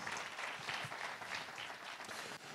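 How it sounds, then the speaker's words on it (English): At a university innovation festival awards ceremony, an audience claps for the winners in a sustained burst of applause, dense and fairly distant, tapering slightly near the end. "Round of applause."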